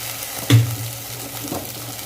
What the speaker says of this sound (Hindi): अब इसके अंदर हम डालेंगे 1 चम्मच अदरक लहसुन का पेस्ट